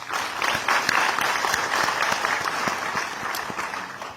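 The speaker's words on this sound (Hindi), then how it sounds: "बड़ी देर से ताली बजी" Audience applause at a media address by India's Union Minister of State for Power and New and Renewable Energy, a steady, dense clapping that holds at even loudness through the whole stretch with no voices over it.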